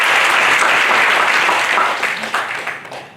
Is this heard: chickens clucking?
no